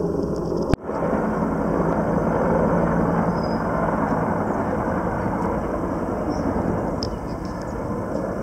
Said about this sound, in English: we got military choppers flying around to say thank you to the hospital